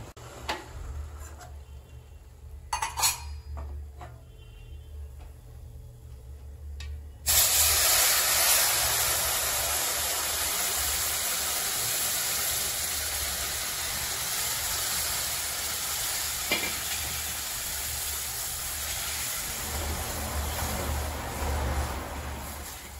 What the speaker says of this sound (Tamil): இப்ப அந்த வெள்ளம் கொதிக்கிற தண்ணியை நம்ம இதில் எடுத்து ஊத்திடலாம்.